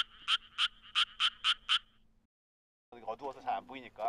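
Korean tree frog calls: six rapid, evenly spaced croaking pulses near and clear, followed by a pause and then a second burst of faster, trilling frog song.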